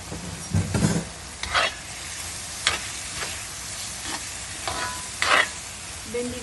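Okra curry, bhindi masala, is stirred in a pan, scraping strokes repeating every second or so over a steady soft sizzle of frying, close and unaccompanied by talk.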